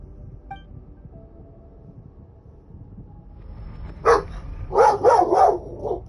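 A dog in the room barks several times in quick succession, loud and close, after a quiet stretch with faint game music.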